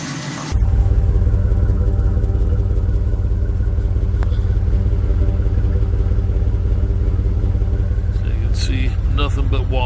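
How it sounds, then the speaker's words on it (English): A truck's diesel engine idles steadily through its exhaust after a 250-amp alternator install, a loud continuous low rumble with clattery texture that starts abruptly and holds even for the rest of the stretch. "take note of what the exhaust sounds like right now"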